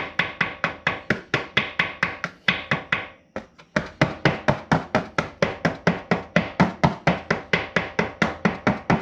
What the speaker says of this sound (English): we're just gonna simply tap it.